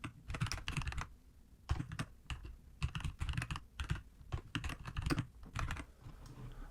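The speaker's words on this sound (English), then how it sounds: "So in this box, I'm going to type in the text I'd like to have constrained to this vector." Fingers type on a computer keyboard in short bursts of rapid close clicks with brief pauses between runs, loud and clear with no voices.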